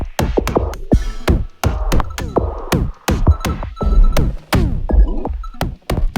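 An electronic track from a 2020 album plays loud and close. Sharp percussive hits and resonant tonal sweeps land in an irregular, stuttering rhythm.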